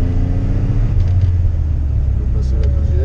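A DeLorean DMC-12 engine rumbles low and steady as the car pulls away slowly on a circuit, close and loud inside the cabin, with someone talking over it.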